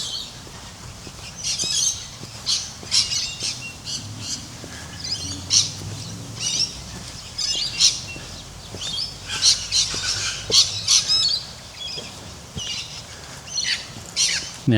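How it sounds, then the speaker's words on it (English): Birds squawk and chirp repeatedly outdoors in a quiet country town street in South Gippsland, Australia, a steady scatter of harsh calls at moderate distance with faint background hum and no talking. "Oh, listen to the birds."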